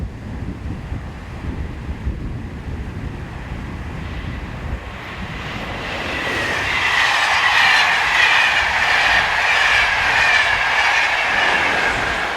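A French passenger train on the Paris to Lyon service, with a 1978 locomotive on the rear, rumbles by on the Mâcon to Chalon-sur-Saône main line, starting as a low distant roar and swelling into a loud rushing, clattering pass with wind noise.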